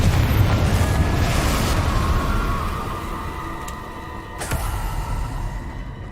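A Confringo explosive spell cast in the video game Hogwarts Legacy, a loud rumbling boom that fills the first seconds and then tails off into a lingering low roar, with a brief sharp burst near the end.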